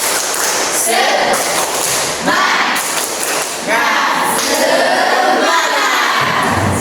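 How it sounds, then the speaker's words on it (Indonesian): A school class of children doing a rhythmic spirit clap together in a classroom, loud claps and chanting voices in repeated bursts with short pauses between them. "yuk kita tepuk semangat dulu. Tepuk semangat"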